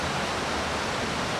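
Steady, dense roar of a waterfall close by, continuous rushing white-noise wash with no pauses or other sounds.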